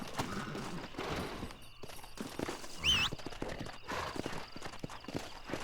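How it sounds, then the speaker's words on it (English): Horse hooves galloping in Red Dead Redemption, a rapid steady clip-clop close by with a brief whinny midway and gunfire-like cracks in the background. "I think I jumped on the wrong horse."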